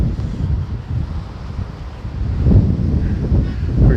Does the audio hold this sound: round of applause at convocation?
no